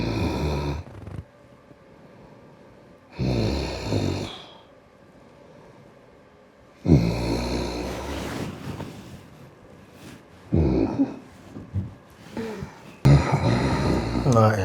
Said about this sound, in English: See herself snoring.